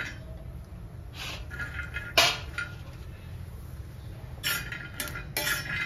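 Dry fruits roasting on a griddle over a low flame, with intermittent metallic clinks and scraping from stirring against the pan over a steady low hum.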